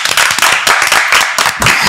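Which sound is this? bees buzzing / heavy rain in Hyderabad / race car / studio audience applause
studio audience applause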